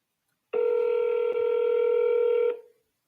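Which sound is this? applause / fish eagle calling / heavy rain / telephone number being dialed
telephone number being dialed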